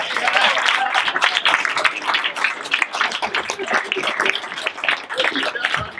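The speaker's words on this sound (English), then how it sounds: "Clap it up for Reese, everybody" A nightclub stand-up comedy crowd applauds and cheers comedian Reese at the end of her set, with loud, sustained clapping and shouting voices for about six seconds.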